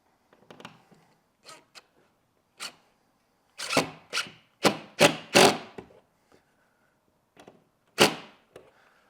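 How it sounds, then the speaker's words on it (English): A screw is driven into drywall for a patch repair, giving a series of sharp, close scraping and crunching bursts, some quick and clustered, others isolated, with quiet gaps between. "as I sink the screw into the drywall, I just dimple the paper on the outside"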